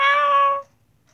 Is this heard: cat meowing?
yes